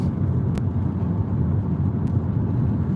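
Steady low rumble of a car interior while driving, engine and road noise droning continuously with two faint brief clicks.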